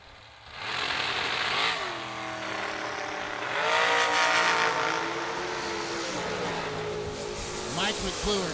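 Mike McClure's throttle-stop dragster makes a drag racing run, its engine roaring loud and sustained for several seconds and swelling in the middle, with faint crowd or announcer noise behind it.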